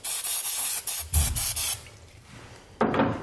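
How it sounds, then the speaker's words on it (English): Brake parts cleaner sprayed onto a trailer axle spindle in a series of short hissing aerosol bursts of uneven length, then a pause and one final longer hiss, close by. "grab some brake parts cleaner and just spray everything down"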